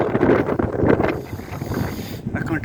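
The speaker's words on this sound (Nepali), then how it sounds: "यस्तो हावा चलिरहेको छ कि" Strong wind blasts the microphone during a snowstorm on a riverside, heavy gusting roars rising and falling throughout while someone talks over it.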